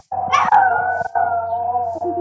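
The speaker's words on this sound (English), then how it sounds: "That's our dog." A dog lets out a long, loud, close howl that holds a wavering tone, with a brief break partway through before it carries on.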